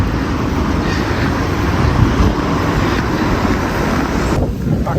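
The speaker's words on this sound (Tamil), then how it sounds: "காற்று பலமாக அடிக்குது" Strong wind blows outdoors near Sumiyoshi shrine in Fukuoka, Japan, buffeting the microphone with a loud, continuous roar that swells and eases slightly across the whole stretch.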